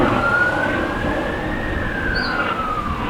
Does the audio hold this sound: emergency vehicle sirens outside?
yes